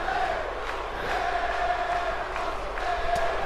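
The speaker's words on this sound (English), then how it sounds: "As the fans are cheering for Bailey" Video game crowd of wrestling fans in WWE 2K18 cheering for Bailey, a steady roar that holds throughout at a constant level with scattered whoops rising above it.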